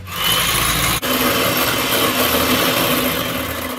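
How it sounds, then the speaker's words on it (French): Electric mixer beating egg whites to stiff peaks for a seafood terrine, a steady loud whirring drone that runs unbroken for the whole stretch apart from one brief dip near the start, with no talking. "Le blanc d'œuf que nous allons tout de suite monter en neige au batteur."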